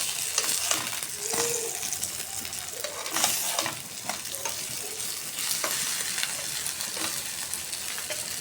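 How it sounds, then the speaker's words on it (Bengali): Eggplant slices sizzle and crackle in hot oil in a pan, a steady close hiss broken by scraping stirs and occasional spatters. "বেগুন ভাজছি"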